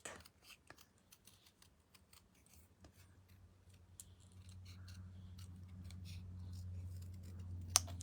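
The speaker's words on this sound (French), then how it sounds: "Donc, je découpe mes vœux, mon vœu." Scissors snip out a paper greeting for a handmade card, making a run of quiet, crisp close-up cuts that are spaced irregularly, with a low hum rising under them and no talk.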